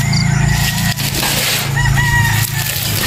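Game roosters crowing and clucking on a game farm in Batangas, several loud, close birds calling over one another with occasional wing flaps, no talk.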